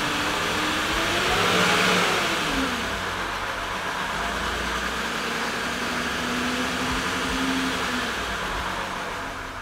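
A car engine runs inside a garage, holding a loud, close, steady drone that rises and falls with a couple of revs.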